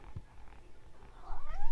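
A pet cat meows indoors: a single rising, drawn-out meow close to the microphone near the end, after a quiet stretch.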